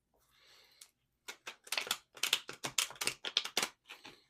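A deck of tarot cards is shuffled up close. A soft opening rustle is followed by a quick, steady run of crisp flutters and slaps.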